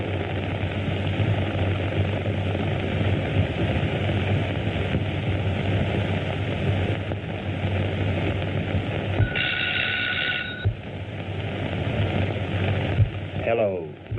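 An airplane engine drones steadily and continuously at close range, with a low rumbling hum throughout and a short, higher tonal whine partway through.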